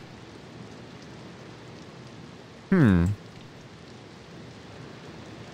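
Rain patters steadily outside in the horror video game Layers of Fear 2, a constant soft hiss that runs throughout, briefly overlaid by a short murmur from a voice partway through.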